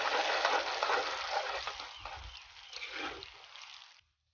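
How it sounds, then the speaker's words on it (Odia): Spices and onion sizzle and crackle loudly in hot oil for a catfish curry, a dense continuous fry that softens slightly midway and ends abruptly after about four seconds, with no talk. "ଏପଟେ ତେଲ ଗରମ ହେଇଗଲାଣି ଚାଲନ୍ତୁ ମସଲା କଷିବା ପିଆଜ"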